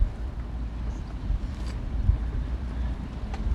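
Wind gusting and buffeting outdoors during a carburetor rebuild on a 1995 Mercury 5 hp two-stroke outboard, a steady low rumble that swells and dips throughout with no talking.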